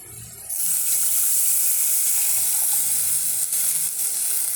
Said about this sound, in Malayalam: പുളി വെള്ളം ഞാൻ ഈ അരപ്പിലേക്ക് ഒന്ന് ചേർത്തു എന്നിട്ട് ഇതിനകത്തേക്ക് ഒഴിച്ചു കൊടുക്കാം